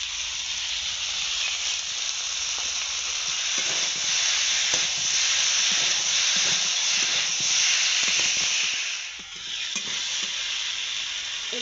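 Tomato paste hits hot oil in a pan of mixed winter vegetable curry, giving a loud, continuous broadband sizzle with stirring scrapes, steady throughout with a brief dip near the end.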